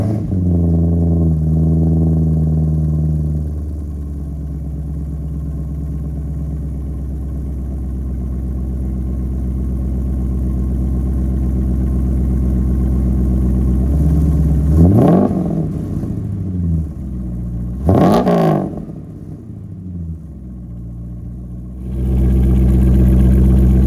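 A Spec Corvette engine with a Holley axle-back exhaust idles with a deep burble, then revs sharply twice in quick rising-and-falling blips before settling and catching again, loud and close.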